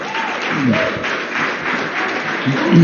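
Audience applause fills a hearing room, a steady wash of clapping at moderate loudness with faint voices mixed in and swelling slightly toward the end.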